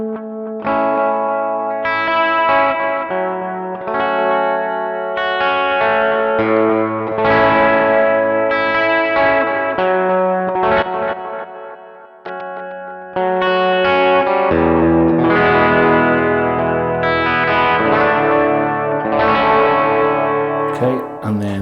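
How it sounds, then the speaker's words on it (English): Electric guitar through a tape echo effect on a Hotone British Invasion amp, playing loud, distorted chord and note phrases with repeating echoes trailing each attack and a short break midway. "So here is a tape echo."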